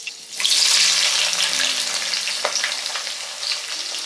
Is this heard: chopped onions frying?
yes